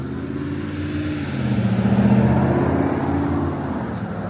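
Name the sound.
large truck driving past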